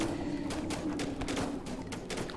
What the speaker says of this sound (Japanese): だから銃声の音がゾンビを呼び寄せる効果があるんだよね